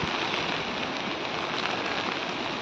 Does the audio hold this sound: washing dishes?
no